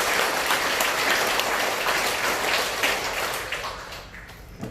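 A Buddhist temple congregation at a dharma talk in Sejong claps together in a dense, sustained round of applause that fills the clip, then tapers off slightly toward the end.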